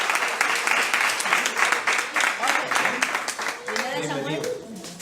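A church congregation claps during a Spanish-language service, with brisk rhythmic hand claps under an energetic voice that continues through the clip.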